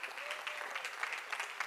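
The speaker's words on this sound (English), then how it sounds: "Applaudissez bien fort, s'il vous plaît, pour Arese UGWU" An audience claps steadily for Arese Ugwu at a French-language talk on finance and social engagement, a dense, sustained applause filling the room without pause.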